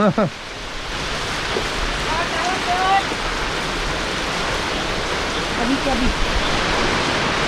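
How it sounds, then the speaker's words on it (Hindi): Steady, dense mountain downpour fills the scene, a continuous broadband wash with a few faint higher calls and clatters surfacing briefly. "आवाज देखो कैसे आ रही है बारिश की, झमाझम"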